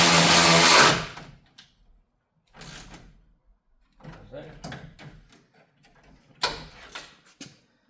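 Radiator bolts being tightened on a 2004 Toyota Tacoma with a 3.4 engine, heard as short ratcheting and metallic clicking bursts separated by pauses, close by, with someone speaking in between.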